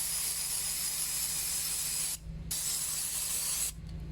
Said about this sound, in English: I'm going to pull them off and I'm going to brake clean them just to make sure no contaminants